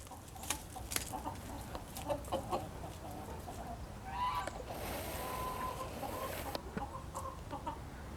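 Young golden roosters cluck and squabble in a scuffle with a hen, sharp squawks and flapping bursts rising over steady clucking at moderate distance.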